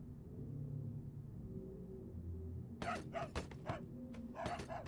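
A dog barks in Manhunt 2, several sharp barks in quick succession over a low ambient rumble, starting about midway and continuing in short groups to the end.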